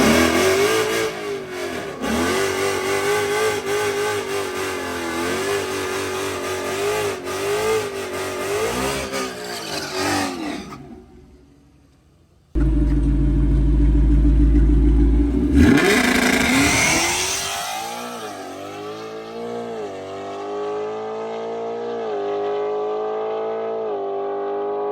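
A car held on launch control at about 3,400 RPM, engine droning and revving hard, then a near-silent pause before a loud, deep launch and a rising acceleration roar that carries through the gears.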